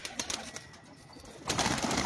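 Pigeons kept by a fancier, grey and red-pearl birds, give faint, soft coos with a few light clicks, followed by a louder burst of rustling near the end.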